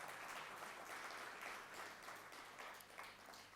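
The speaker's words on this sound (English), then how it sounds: "Give him a big round of applause," A conference audience claps steadily for a speaker at a health and wealth investment event, a dense, even wash of applause that swells slightly in the middle and tapers toward the end.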